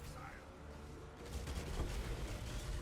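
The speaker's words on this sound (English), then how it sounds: "Explosions are just your best friend when it comes to clearing" Gladiator skills in Path of Exile set off a dense string of overlapping explosions, booming and crackling without pause and swelling louder partway through, with a voice talking over them.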